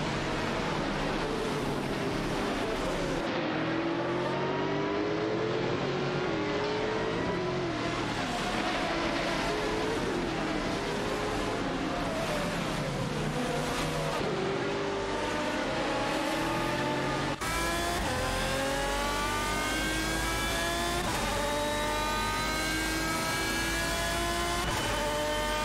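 Lister Storm GT and Ford GT race cars in a racing video game, a continuous loud engine drone with rising and falling pitch sweeps as gears shift, steady and dense with no talking.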